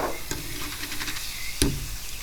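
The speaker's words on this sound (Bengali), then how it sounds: "এই মুড়িগুলো ভেজে নেবেন" Parboiled rice dry-fried in a pan to make puffed rice (muri), a hissing crackle with a few sharp scraping strokes, one loud clack near the end, close and short, no one speaking.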